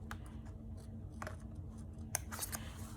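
Scissors cutting out envelope paper: several quiet, crisp snips spaced irregularly over a few seconds, close by and soft against a low background hum.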